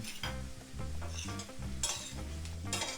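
Onions cooking in a pot for liver pâté are stirred, giving a soft sizzle under rhythmic scraping and knocking of a spoon against the pot, fairly quiet and close.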